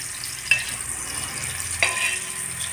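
Paneer fries and crisps in a pan with a steady close sizzle, broken by two sharper stirring scrapes.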